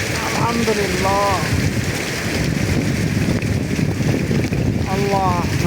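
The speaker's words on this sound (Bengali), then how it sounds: "অনেক বৃষ্টি হচ্ছে।" Heavy rain pours down with gusting wind, a dense, constant roar of water buffeting the microphone, while a voice briefly intones something in the background.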